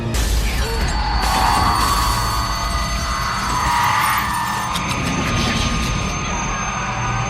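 Glass shattering aboard a naval ship in the 2012 film Battleship, struck by an alien vessel's sonic wave; a loud, continuous roar with crackling, breaking high tones over heavy engine-like rumble throughout.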